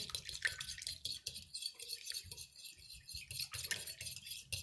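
Egg-lemon liaison for fish soup being whisked in a bowl, quiet rapid clinking and scraping strokes with a wet edge, close and continuous with no talking.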